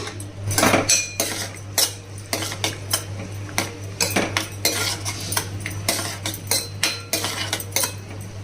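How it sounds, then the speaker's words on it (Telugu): Cashew nuts fry in hot ghee in a pan while a metal spoon repeatedly scrapes and clinks against the pan over a low hum and a soft sizzle. "ఇదిగోండి నెయ్యి వేడైందండి. ఇప్పుడు జీడిపప్పు వేసుకుందాము."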